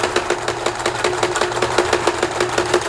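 A vintage Kenmore sewing machine stitches through 16 layers of folded canvas with a fast, steady mechanical chatter of evenly repeated needle strokes, close and fairly loud, with no talk.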